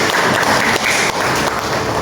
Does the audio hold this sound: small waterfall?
no